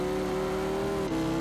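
A race car engine in Gran Turismo 5 holds a steady whine, then drops in pitch with a brief dip as it downshifts into second gear.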